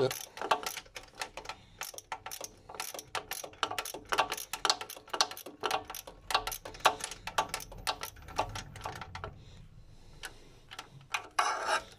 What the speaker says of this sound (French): La clé est dedans et je dévisse.